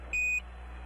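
Radio transmission from Apollo 11 with a single short, steady electronic beep rising above a constant hiss of static, lasting about a quarter second before the noise floor continues alone.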